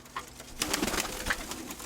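Soft cooing of pigeons, close and quiet, with a few brief low calls over light background rustle.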